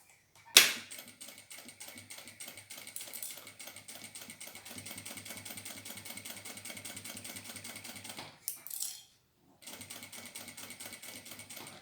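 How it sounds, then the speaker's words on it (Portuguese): A domestic sewing machine runs a long steady stitching burst on a fabric toiletry bag's final seam, with a fast even mechanical rattle, a short pause and a brief restart, close and moderately quiet. "Eu vou posicionar aqui o pé de máquina e vou fazer a costura definitiva."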